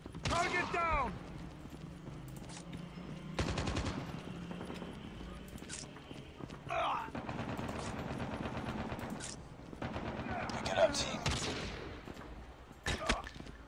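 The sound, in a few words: gunshots in video game Call of Duty Mobile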